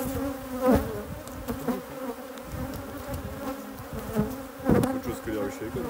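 Honey bees buzzing around organic royal jelly beehives, a dense steady hum with a few louder passes close by, while people talk faintly underneath.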